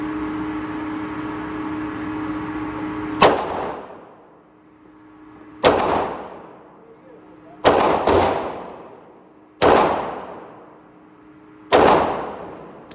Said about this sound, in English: for the second round, we are shooting 38 Special Plus P